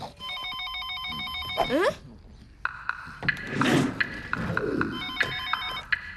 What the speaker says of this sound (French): Papa, téléphone!